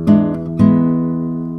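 Classical guitar plays the third bar of a waltz: two plucked chords, close and clear, the second left to ring and fade.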